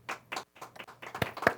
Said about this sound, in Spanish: Un aplauso para el Eterno entonces.